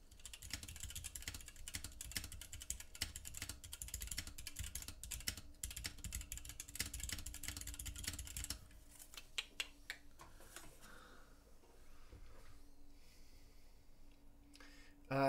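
Someone types on a 65 gram carbon fiber mechanical keyboard in a fast, dense run of clacks for about eight seconds, then slows to sparse, quieter key taps. The typing is close and continuous.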